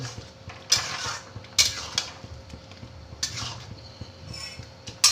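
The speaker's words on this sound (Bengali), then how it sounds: "হাতা দিয়ে ডালটাকে একটু ঘেটে দেব এইভাবে একটু ফুটিয়ে এলে" A ladle stirs boiling lentils and bottle gourd with turmeric in a pot, giving scraping metallic clinks and occasional sharp knocks against the rim over a steady background hum.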